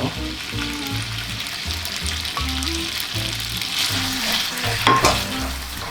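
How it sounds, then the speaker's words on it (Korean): Boiled glass noodles stir-frying in oiled pan over high heat for Korean japchae, a steady loud sizzle with repeated scraping and tossing strokes throughout, no voices. "자, 센 불로 켜주시고 여기 기름 한 숟가락 둘러줍니다 자, 여기다가 아까 삶아둔 당면 넣으시고요"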